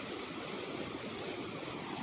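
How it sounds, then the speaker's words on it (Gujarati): Floodwater rushes at high speed over the overflowing Karad Dam in Ghoghamba taluka, a continuous, even wash of turbulent water heard from a distance at low volume, with no talk. "અહીંયા તો પાણી કેટલું બધું સ્પીડમાં આવે છે બહુ જ બધું સ્પીડમાં દેખો પાણી"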